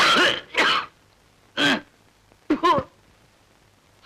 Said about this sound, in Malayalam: വല്ലാത്ത ചുമ